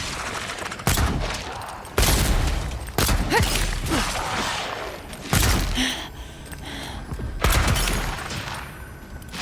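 Gunfire in the video game Avowed, sharp shots and booms recurring about every one to two seconds over a dense rumbling battle background, loud and close.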